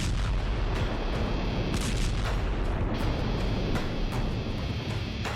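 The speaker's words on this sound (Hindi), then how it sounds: "रूस की यूक्रेन पर भीषण बमबारी" Artillery bombardment during Russia's attack on Ukraine, a dense continuous barrage of deep booms and blasts, loud and sustained with several sharper impacts standing out.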